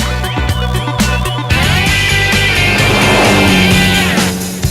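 A Jeep Renegade compact SUV is heard close by, first as a few clattering knocks, then as a loud, sustained engine and road roar that holds for several seconds before easing off.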